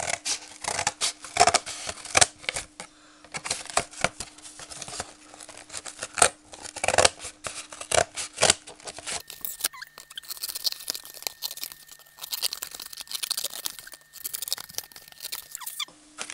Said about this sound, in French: Je vais le faire au ciseau.